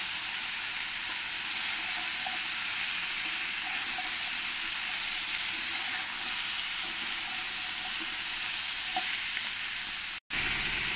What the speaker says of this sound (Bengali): লাউগুলো দিয়ে একটু ভালো করে আমি এই আলুর সঙ্গে ভেজে নেব